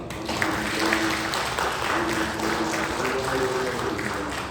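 Church congregation applauding during a Sunday worship service in Daejeon, a dense, steady wash of clapping from a large crowd filling the space at moderate loudness.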